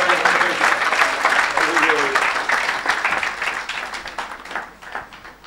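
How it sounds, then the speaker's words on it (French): A church congregation applauds and cheers to acclaim Jesus, a dense, loud wash of clapping that slowly thins out, with voices mixed in. "Acclamons Jésus pour elle."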